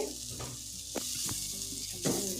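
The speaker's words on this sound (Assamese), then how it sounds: "মছলাটো দি অকণমান ভাজি ল'লোঁ" Spice masala fries in a pan with a steady, bright sizzle and a few scraping stirs, close and continuous with no talking.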